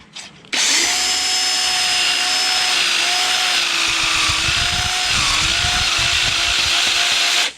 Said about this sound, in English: And we drill in.